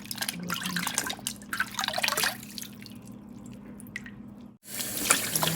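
Golden oyster mushrooms swished and rinsed by hand in water, with irregular dripping, sloshing and trickling close by, a brief pause near the end, then more splashing.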